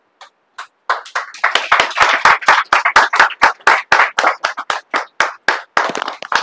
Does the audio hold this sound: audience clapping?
yes